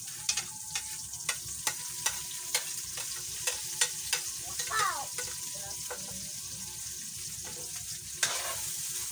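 Fried fish stirred in a pan, a close steady sizzle of frying punctuated by regular sharp clicks of the utensil against the pan.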